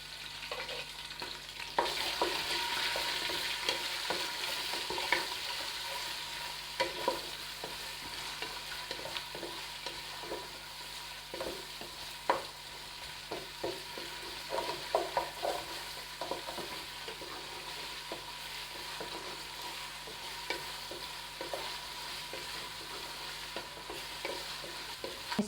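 Garlic, cinnamon, bay leaf, black cardamom and cloves fry in oil for goat trotter paya: a continuous close sizzle with frequent scraping stirs, and no talking.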